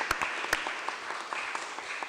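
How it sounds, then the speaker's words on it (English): A conference audience gives a round of applause at a workshop's closing session, a steady wash of many hands clapping with a few sharper close claps standing out. "I'd like to ask you for a round of applause to those who brought us together"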